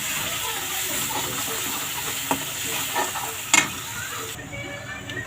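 Pav bhaji mixture with red chilli powder and coriander powder stirred while frying in a pan, a steady sizzle and hiss with scraping clatters, close up and without talk.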